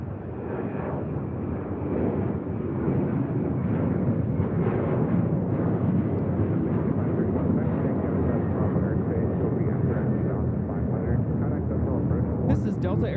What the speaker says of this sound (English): This is Delta Airlines 811 taking off to Miami, Florida on a 737-900ER